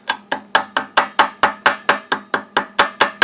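Sharp, evenly spaced metallic taps, about fourteen in quick rhythm, as a hammer chips hardened flux slag off a fresh weld made at around 60 amps; loud and close with no talk.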